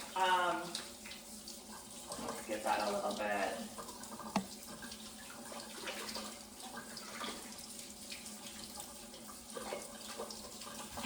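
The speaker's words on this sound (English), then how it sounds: "I'm going to go over to the sink and just wash it out a little bit with running water" Tap water runs steadily into a sink, rinsing quinoa through a strainer; a soft continuous wash sits under a speaking voice that talks over much of it.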